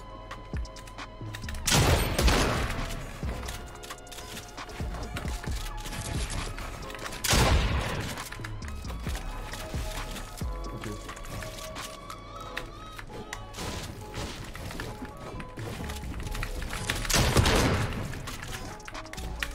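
Fortnite Chapter 3 gunfire in a forest area: three heavy bursts of shots, loud and booming, separated by several seconds of dense game noise and background action.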